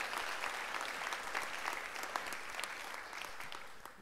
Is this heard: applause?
yes